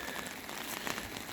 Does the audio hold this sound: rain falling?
yes